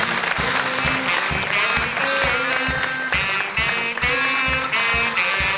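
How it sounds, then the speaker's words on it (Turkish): A television studio audience applauds as a world kickboxing champion is welcomed onto a talk show, steady clapping blended under loud, rhythmic music with strong beats running throughout. "alkışlarınızla şampiyon Nagihan Kalyoncu geliyor"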